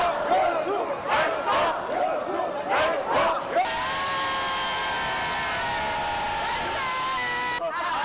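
A large crowd in Yeosu erupts in loud, continuous cheering and shouting at the moment the Expo bid is won, in dense rising waves of voices. Partway through, the cheering gives way to a sustained, steadier tone.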